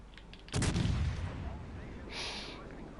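A naval gun salvo fires on a target in a video game: one heavy, booming blast that rumbles and fades over a couple of seconds, with a faint high tone near the end.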